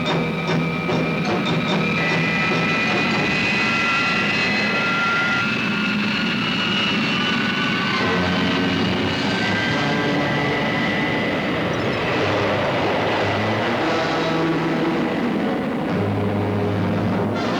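Thunderbird 2 aircraft roaring loud and steady as it plunges in a crashing dive, a dense sustained engine drone with shifting whining tones throughout.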